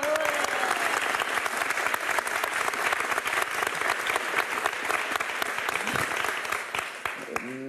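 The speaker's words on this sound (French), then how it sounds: "tout le monde applaudit" A studio audience on a French television game show claps loudly and continuously, a dense wash of applause that stays strong for several seconds and then tapers as voices come in near the end.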